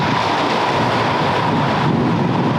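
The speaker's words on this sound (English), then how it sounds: "It's very windy, but we've got the water, we've got the beach." Strong wind blows across a small beach by the water, a steady, loud, broadband roar with buffeting gusts hitting the microphone throughout.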